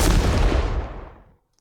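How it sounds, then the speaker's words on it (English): A stock explosion effect from the Boom Library Magic Construction Kit, one loud close blast with a deep rumble that fades away over about a second and a half, then near silence. "I have two basic explosion sounds that I got from the Boom Library Magic Construction Kit library"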